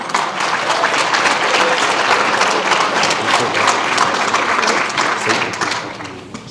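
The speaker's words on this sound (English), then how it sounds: "One last round of applause for anyone that we have not yet mentioned" A packed audience at the Socastee 70th annual pageant breaks into loud, sustained applause, dense clapping mixed with some crowd noise holding steady for several seconds before tapering slightly at the end.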